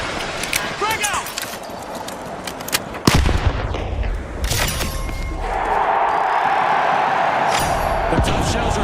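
A grenade blast and bursts of gunfire in a shooter video game, with sharp loud bangs and a heavy thump around the middle followed by a sustained roaring rumble, over game noise and voice callouts.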